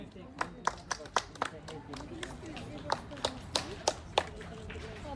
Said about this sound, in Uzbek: Qarsaklaringiz.